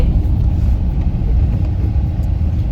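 A car engine hums as the car drives along, a steady, loud, low rumble that lasts throughout with no clear pauses.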